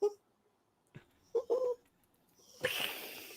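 A dog gives a few short, high whimpers and yelps in separate bursts, fairly close, followed by a rough rustling noise at the end. No speech is heard.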